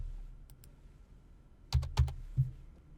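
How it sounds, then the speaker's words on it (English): A few isolated keystrokes on a computer keyboard, typing numbers, come in a quick cluster of three or four sharp clicks near the end after quiet, with no talk. "I can still type in my own numbers"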